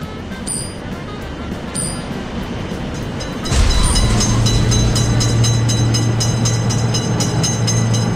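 A few faint tones sound over quiet background, then a game train arrives at a railway crossing and rumbles past with a loud steady drone and rhythmic clatter.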